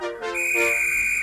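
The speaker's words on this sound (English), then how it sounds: "Rosie watched in awe as the guard eventually blew his whistle and Gordon set off." A railway guard's whistle on a station platform sounds one loud, close, shrill blast, starting with a brief lower tone and settling into a steady high pitch for about a second.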